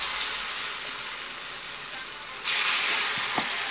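Bean akara fritters fry in hot oil over medium heat, giving a steady, close, crackling sizzle that suddenly grows louder and brighter partway through.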